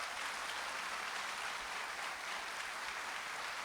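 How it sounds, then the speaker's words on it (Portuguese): A congregation at a priest's first Mass applauds in a steady, dense wash of clapping that holds evenly throughout, with no clear voices above it. "Pode aplaudir."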